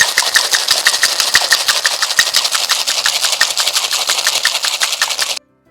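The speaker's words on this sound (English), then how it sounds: "Gonna add some ice to your shaker and we're gonna shake this up for about 10 to 20 seconds." Cocktail shaker full of ice shaken hard for a Christmas drink, a loud, close, rapid rattling of ice against metal in a steady rhythm for several seconds before stopping abruptly; no talking.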